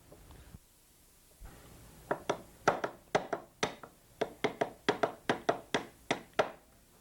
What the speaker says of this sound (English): let's take the punch and drive out the pin